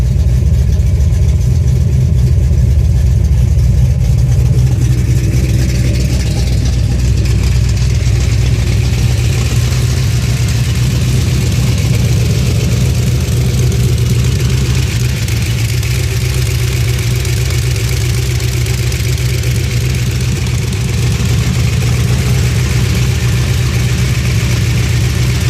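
A 1981 Oldsmobile Cutlass with an XE274H cam idles around 800 rpm, giving a loud, close, steady low rumble with a lumpy, loping rhythm and a slight rise in revs partway through. No one speaks.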